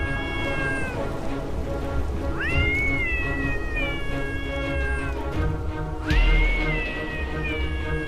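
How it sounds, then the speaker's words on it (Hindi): Cartoon kittens crying and meowing in a Hindi animated story, three drawn-out rising meows spaced a few seconds apart, close and clear over a steady background hiss. "बिल्ली के बच्चे के रोने की आवाज से मेरी नींद खुल गई थी"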